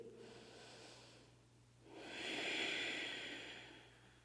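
Deep ujjayi yoga breaths during an Ashtanga backbend hold, a soft airy hiss with one breath fading and a longer, stronger breath swelling after it, close and quiet with no talking.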